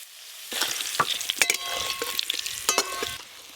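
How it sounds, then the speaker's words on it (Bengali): Chicken pieces cooking in ground spice paste in a village-style pan, stirred with a few scraping strokes over steady close sizzling, with no talk. "এবার দেখো বাটা মশলায় কিভাবে মাংসটা রান্না করি।"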